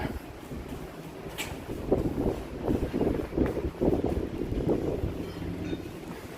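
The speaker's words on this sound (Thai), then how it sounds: "นี่ครับ ลมพัดมา" Wind gusts across the open-air top of the Ho Hod observation tower at Bueng Phalan Chai in Roi Et, Thailand, buffeting the microphone in loud, uneven low rumbles.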